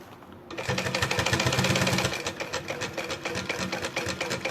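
A sewing machine stitches a visible seam on a sublimation-printed bag at a slow pace and a medium stitch length. It starts after a short pause, then gives rapid, rhythmic needle clatter that eases slightly toward the end, close up with no voices.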